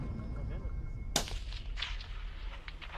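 A police sniper rifle fires once at a 40-centimetre metal ring target 550 metres away during an interagency training exercise: a single sharp, loud crack with a brief echoing tail over steady outdoor background noise.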